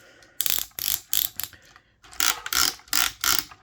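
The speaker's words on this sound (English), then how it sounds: "just listen to those ratchets, my gosh" Ratchet joints on a Transformers Legacy Menasor action figure click in quick bursts of sharp, close ratcheting, several short runs separated by brief pauses, with no talking.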